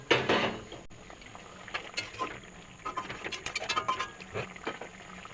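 Fish being poured into a potato curry of kai fish makes a close, wet pattering splash followed by uneven sizzling and soft clatter against the pot, with no voices.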